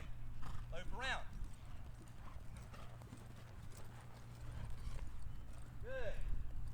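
Horse loping in a riding session, a rhythmic run of hoofbeats under a rider's spoken cues, with a couple of brief whinny-like squeals rising over the steady background.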